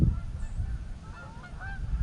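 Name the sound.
group of geese honking while flying over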